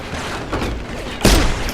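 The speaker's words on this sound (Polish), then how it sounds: "Kurwa, chyba nie trafiłem tym pierwszym strzałem." A sniper rifle shot in the video game Deus Ex: Human Revolution, one sharp, loud broadband crack about two-thirds of the way through, preceded by a softer muffled thump amid busy game background noise.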